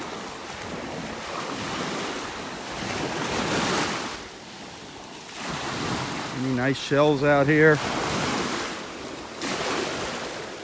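Ocean surf washes steadily onto a beach in North Naples, Florida, with wind buffeting the microphone and swells rising and easing; someone speaks briefly partway through.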